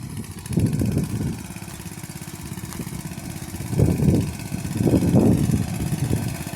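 A small 6.5 horsepower engine runs steadily at close range, its low chugging rising and falling in loudness, with no voices over it.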